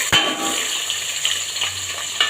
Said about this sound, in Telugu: ఆయిల్ అనేది హీట్ ఎక్కిందండి. సో మనం ఇప్పుడు ఆనియన్స్ వేసుకున్నాము.